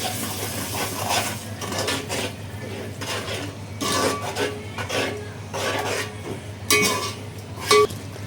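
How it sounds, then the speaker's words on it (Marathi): Yogurt being stirred into vegetable pulav in a pan, a close scraping and rubbing of a spoon against the pan in uneven strokes with a few metallic clinks, over a steady low hum. "दही ॲड करणार आहोत. मिक्स करून घ्यायचं आहे आता."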